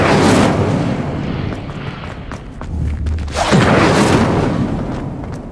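An Incendio fire spell blazes in Hogwarts Legacy, a loud roaring burst of flame with rumbling booms that dips briefly, then surges again before fading.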